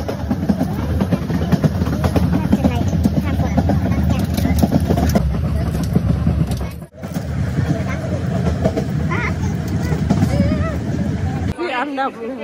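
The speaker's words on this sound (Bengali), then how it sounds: "ট্রেন আরেকটা ক্রসিং হইতাছে" A passing train crosses while riding a train between Tripura and Kolkata. A loud, continuous rumble and clatter fills the whole stretch with one brief dip, and voices chatter underneath.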